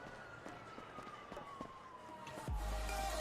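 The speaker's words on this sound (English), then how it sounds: "Siren's down there." Police siren in the FiveM roleplay game, a steady wailing tone running through the clip alongside clicks and game noise, ending in a loud low rumble.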